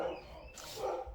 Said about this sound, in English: my dog's being loud as fuck.